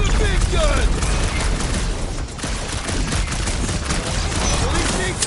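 A big gun in the Guardians of the Galaxy video game fires a dense, sustained barrage of booming shots and explosions, loud and close throughout, with voices talking under the din.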